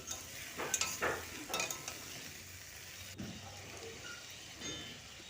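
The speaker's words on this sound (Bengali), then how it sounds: "ওই জন্য আলুটা একটু ভেজে নিচ্ছি" Potatoes frying in a pan for a fish and eggplant dish, a soft sizzle with a few stirring scrapes and light utensil clicks, fairly quiet.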